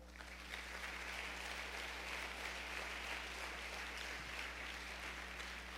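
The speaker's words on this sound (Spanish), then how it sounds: "Denle un aplauso a Dios." Worshippers at a church service applaud, a soft, continuous wash of clapping heard over a low electrical hum.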